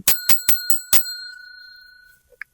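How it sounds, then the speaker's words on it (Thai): A small bell struck five times in quick succession during a tarot reading, bright metallic rings followed by a long fading shimmer, close and clear with no talk. "ขอตีกระดิ่ง"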